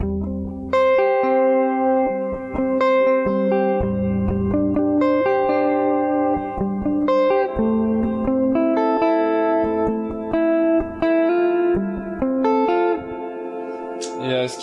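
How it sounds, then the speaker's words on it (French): A clean electric guitar plays a slow melodic line through a pedal reverb set to church mode, each note ringing out into a huge, washy reverb tail that blurs the phrases together. "je l'ai mis en mode church pour simuler une énorme pièce pour le coup. Donc une reverb très forte."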